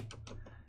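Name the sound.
typing code on a computer keyboard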